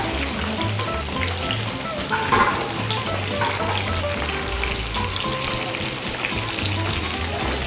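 Steady, dense sizzling of food frying in a pan, with occasional stirring, close and continuous with no voices.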